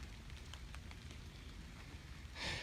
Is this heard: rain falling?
yes